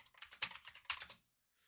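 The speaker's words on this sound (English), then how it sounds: "Excuse my loud clacking keyboard." Rapid clacking of a computer keyboard, a quick burst of keystrokes close up that stops abruptly, followed by near silence.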